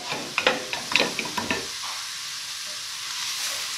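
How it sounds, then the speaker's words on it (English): A pot of onions and mirepoix vegetables for beef stew is stirred as it caramelizes. Brisk spoon scrapes and clatters sound over a frying sizzle for about two seconds, then a softer steady sizzle continues alone. "So we're going to finish caramelizing the onions"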